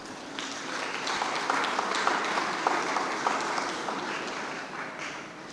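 Steady applause from the audience fills a school graduation and awards ceremony, a moderate, even patter of clapping lasting several seconds with a few sharper individual claps standing out.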